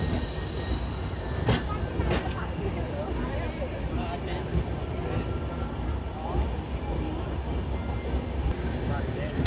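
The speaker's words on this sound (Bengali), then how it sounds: "ডিপার্টিং আড়া জাংশন" The diesel-hauled 15624 Kamakhya Express pulls out of Ara Junction, its heavy, continuous rumble of coaches heard from on board. Faint voices can be heard underneath.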